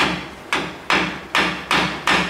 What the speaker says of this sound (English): The reason why I'm not just hammering this thing as hard as I can is because I don't want to bend anywhere else on the backing plate